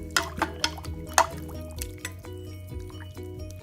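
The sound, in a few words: stirring chicken noodle soup broth in a pot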